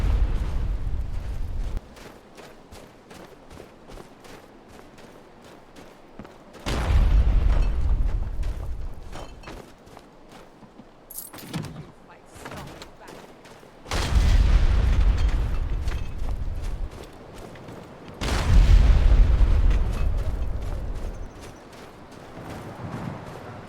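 Heavy bombardment explosions pound an outer camp in modded Skyrim, several deep booming blasts arriving one after another with loud low rumbles that swell and fade between hits.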